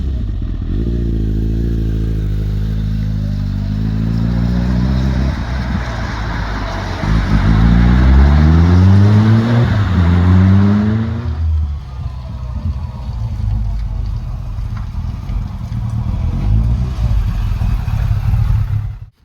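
Kawasaki ZZR1200 motorbike ridden out on the road, its engine droning loud and close, revving and climbing through the gears before easing off into a steady cruise.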